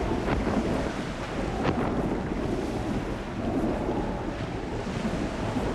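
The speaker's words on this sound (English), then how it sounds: "There seems to be quite a storm brewing off our stern, Mr. Fogg." A sea storm with thunder, rain and high winds, heard as a steady, dense roar of wind and surf with a few low thunder swells and no talk.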